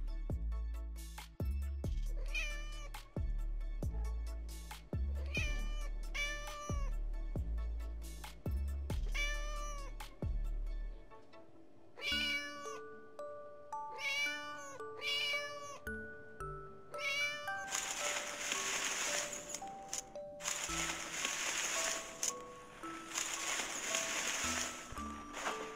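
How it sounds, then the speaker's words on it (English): A domestic cat meows repeatedly in a series of clear, close calls, set against a steady musical backing that grows busier and brighter partway through. "Cat."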